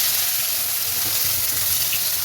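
Onion fries in hot oil while a pomfret curry is cooked, heard as a loud, dense, even sizzling hiss close up with a low rumble beneath and no speech.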